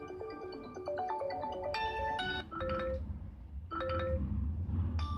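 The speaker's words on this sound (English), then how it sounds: "Ringtone volume." A bright electronic ringtone melody from a Huawei Nova 2i phone plays on its own, a run of clear chiming notes repeating in short phrases, loud and close.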